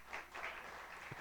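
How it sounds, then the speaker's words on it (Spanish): Short burst of applause from a gathering welcoming a house leader named Dorita, a steady patter of clapping lasting about a second. "la recibimos con un aplauso"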